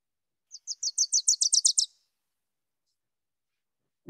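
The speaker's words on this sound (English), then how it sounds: "A Wilson's warbler." A Wilson's warbler sings one quick, bright song of about a dozen sharp chips that speed up and run together, close and clear, then stops, leaving the surroundings silent.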